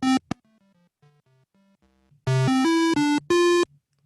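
An 8-bit, near-square-wave synth tone on an MPC Live gives a video-game sound: a few quiet buzzy beeps stepping in pitch, then four loud, sharp square-wave notes in quick succession, with no voices.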